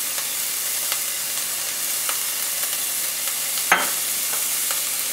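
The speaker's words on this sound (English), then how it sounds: "we also add some more saffron in there to make sure to get the golden color" Kashke badam in a frying pan as saffron is stirred in: a steady close sizzle with soft, scattered scrapes and clicks of the spoon, one louder scrape near the end, and no talking.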